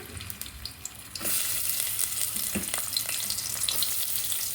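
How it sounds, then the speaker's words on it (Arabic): Onion frying in a pan: after a second of quiet clatter, a loud, steady hiss of sizzling oil starts abruptly and runs on unbroken, close by, with no talk. "هحط البصله تتحمر حبايبي"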